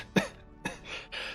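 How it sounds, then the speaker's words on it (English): Two or three short coughs from a man, sharp and close, spaced apart with a brief breathy throat sound after them and no talk. "That wasn't a laugh, that was a cough."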